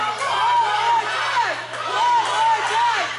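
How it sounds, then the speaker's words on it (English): Crowd at an independent wrestling event chanting in rhythmic, repeated waves, loud and close, with a commentator's voice over it. "Crowd chanting one more time."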